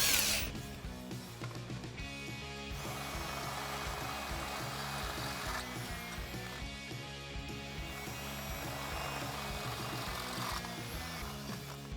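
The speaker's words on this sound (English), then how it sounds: "So I'm going to take my 1/2 inch drill bit and round those out." A power drill with a 1/2-inch bit whirs continuously up close, enlarging holes on a Jeep Wrangler JL during a suspension lift install, its motor pitch wavering as the bit grinds through material, with a short bump in tone midway.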